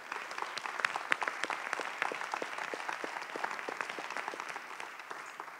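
Applause at a film festival awards announcement after the best actress prize, a sparse crowd clapping with distinct individual claps, fairly quiet and continuous.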